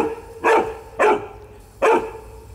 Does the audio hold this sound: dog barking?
yes